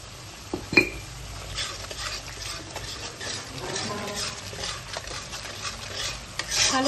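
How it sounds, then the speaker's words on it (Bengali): Paste of coriander leaves and green chilli being stirred and mixed with salt in a pan for a tangra fish curry, with steady scraping and soft sizzling throughout, a sharp utensil clink near the start. "ভালো করে বাটাটার সাথে আমরা মিশিয়ে নিচ্ছি"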